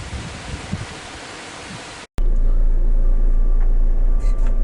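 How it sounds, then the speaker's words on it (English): Strong gale-force wind blows outside a farm barn as a loud, continuous roaring rush. A brief dropout breaks it midway, then a heavier, deeper buffeting follows. "it is really windy out there. Blowing a gale."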